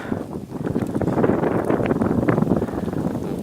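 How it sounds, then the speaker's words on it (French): Wind gusting outdoors in foggy countryside during light snowfall in Saône-et-Loire, a continuous low rumbling buffet against the microphone with no talk. "Un peu de vent."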